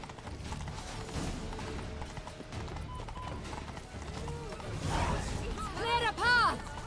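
Horse hooves clopping steadily while riding in The Witcher 3: Blood and Wine video game, a continuous close rhythm mixed with creaking tack and game sounds, under people talking.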